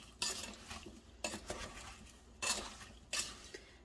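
Cherry rhubarb pie filling stirred in a pot, a spoon scraping and clinking against the metal in four distinct strokes, close and moderately loud with quiet pauses between.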